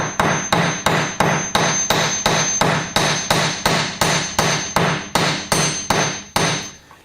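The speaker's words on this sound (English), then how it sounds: "We get a hammer, we get our steel, and we're going to flatten the ends." A hammer strikes steel bracelet ends about sixteen times to flatten them, in a steady, even rhythm, each blow a sharp ringing clank that decays quickly, loud and close.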